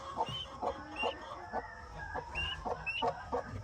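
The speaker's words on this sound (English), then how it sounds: "We got 3 chickies" Three young chicks peep with a shrill, repeated chirping in short, irregular bursts, close by, on a small farm, with clucking from a nearby mother hen mixed in.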